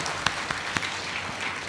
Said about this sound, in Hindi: एक बार ताली बजा के डॉक्टर साहब का